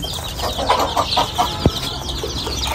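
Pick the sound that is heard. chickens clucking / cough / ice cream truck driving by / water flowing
chickens clucking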